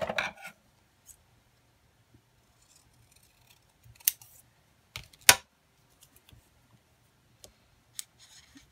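Scissors cutting paper in half during a summer scrapbooking session: a few sharp, close snips, two of them louder, spaced out over quiet with small clicks in between.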